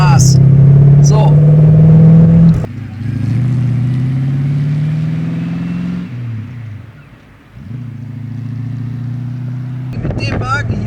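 A fully restored, warmed-up BMW 507 engine while driving, a loud close drone that rises in pitch, drops with a gear change, then climbs again before easing off.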